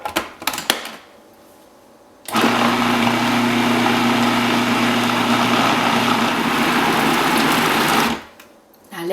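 An electric machine churns cultured cream into butter, switching on with a loud, steady whirring motor hum that runs for about six seconds before stopping, with faint clatter at the start.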